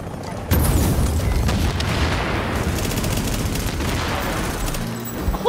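Incendiary grenades burst during a chaotic video game shootout, with a sudden loud boom followed by continuous crackling, rumbling blasts and gunfire that stay dense until the end.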